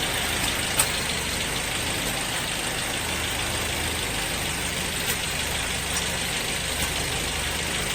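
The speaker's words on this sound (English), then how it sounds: "I'm going to turn off the engine" A car engine idles steadily for the whole stretch, a constant low rumble under broadband hiss with no voices, as a 12V power inverter is tested off the car's battery.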